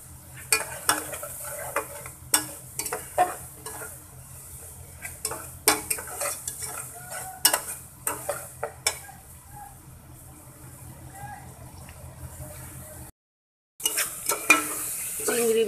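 Prawns stir-fry in a pan, with a spatula scraping and clinking against the metal in irregular strokes over a steady low sizzle; close and moderately loud, with a brief silent gap near the end.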